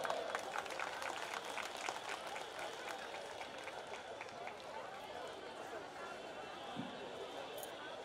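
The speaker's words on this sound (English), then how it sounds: "Let's welcome them by giving a big round of applause." Applause from an audience at a school annual fest welcoming the chief guest, a dense wash of clapping that starts strong and thins slightly, with crowd murmur and voices mixed in.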